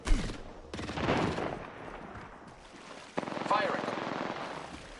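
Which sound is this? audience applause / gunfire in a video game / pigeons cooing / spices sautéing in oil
gunfire in a video game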